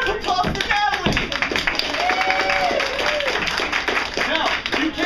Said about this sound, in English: Round of applause for Natalie.